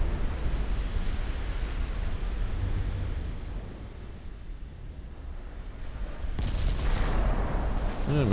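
Battlecruiser 9-inch naval guns fire in a naval battle game, heard as a continuous roaring rumble of gunfire that dips mid-stretch and surges back with a sharp new salvo near the end.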